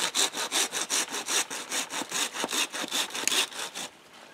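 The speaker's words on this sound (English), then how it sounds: "So I'm going to start sawing right down here." A hand saw cuts through a branch of partly rotten wood in steady back-and-forth strokes, about a dozen rhythmic rasps close by, then stops.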